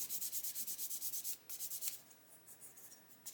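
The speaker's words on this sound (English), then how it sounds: "Just keep going, just gently sanding." Light, rhythmic rubbing of fine sandpaper on a plastic model kit part, quick soft strokes repeating steadily, close and quiet, with a brief pause partway through.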